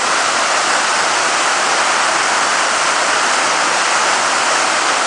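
Cachoeira dos Padres waterfall in Marmelópolis, Minas Gerais, pours a heavy volume of water with a steady, loud broadband roar. The rushing sound is close and continuous, with no voices and no breaks.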